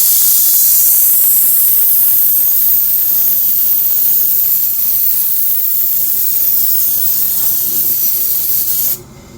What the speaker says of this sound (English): So, I'm holding a mold like that, not like this facing me, but just like that, and spraying a color.